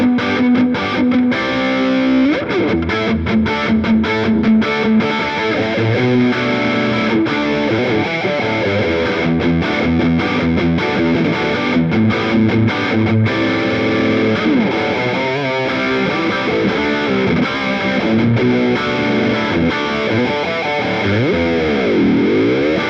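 Dean From Hell electric guitar played through a gain-boosted stereo chorus into a Marshall Valvestate amp, a loud, continuous distorted riff with shimmering, swirling modulation and sustained chords, no voices.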